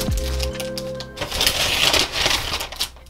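Plastic packaging crinkles while an art kit is unboxed: a short tonal ring, then close, irregular rustling and crackling bursts that carry on to the end.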